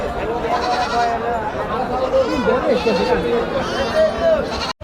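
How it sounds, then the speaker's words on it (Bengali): Sheep bleat at a large livestock market in North Bengal, with wavering cries close by and crowd noise filling the space around them. "প্রচুর পরিমাণে ভেড়া দেখেন ভেড়ার কোনো অভাব নাই"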